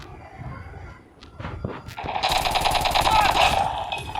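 Gunfire in the mobile game Call of Duty Mobile, a few faint shots followed by a loud sustained burst of rapid automatic fire.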